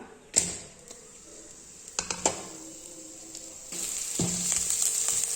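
Mustard seeds, chana dal and onion hit hot oil in a pan with a faint steady sizzle, punctuated by a few sharp pops and clicks, the frying growing louder and brighter near the end.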